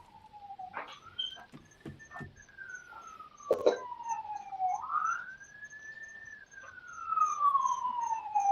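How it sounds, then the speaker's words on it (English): A siren outside wails up and down in the distance, rising and falling in long sweeps, with a few sharp knocks and a dog bark mixed in, heard over a call-in radio show line. "Somebody's got sirens, which is not me"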